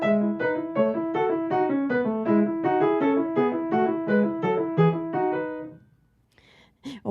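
Piano playing the opening measures of a Bach piece, a steady stream of clear, evenly articulated notes for about six seconds before stopping, close and alone.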